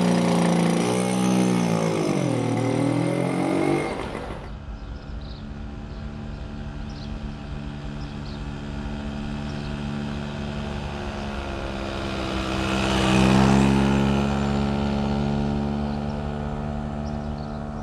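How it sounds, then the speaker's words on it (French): Motobécane AV89 moped, an old unrestored two-stroke, revving loudly at first, then idling with a steady buzz and a brief swell in revs near the end, no talking. "la mobylette dans son jus qui a repris vie et qui roule très très bien"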